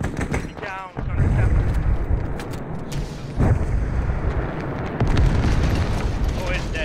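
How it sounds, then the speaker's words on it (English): In the military game Arma 3, an anti-tank rocket strikes a vehicle with a heavy, rumbling blast, followed by further booms and gunfire, loud and close, while players shout over the noise. "Hit it with AT. Shoot him with AT, he's got him."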